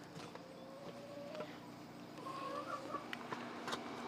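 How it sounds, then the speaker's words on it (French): Five farm turkeys calling in a few faint, scattered gobbles and clucks outdoors, with quiet ambient noise and occasional clicks. "Regardez les dindes."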